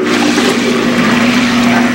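Water churns and swirls steadily in a spinning tornado vortex stirred in a container with glitter, a continuous close, loud rushing slosh with no talking.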